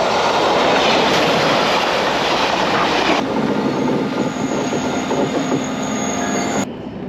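A train runs on rails during a trip through Switzerland and France, a loud continuous rumble with rhythmic wheel clatter, then a quieter smoother stretch with a faint high squeal, ending in a sharp drop.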